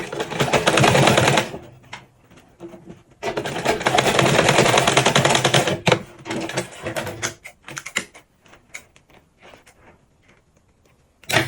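A sewing machine top stitches damask fabric for a ruffled turban: two long, loud bursts of rapid mechanical stitching, then a string of short, separate stitch runs and clicks before it falls quiet.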